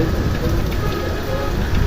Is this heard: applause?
no